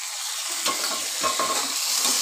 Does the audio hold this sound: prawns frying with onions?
yes